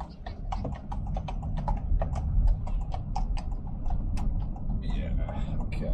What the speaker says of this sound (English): I'm just gonna watch the horse just to make sure it does go